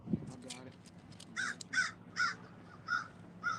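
A crow caws five times in a steady, evenly spaced series, clear and moderately near, after a short burst of talk at the start.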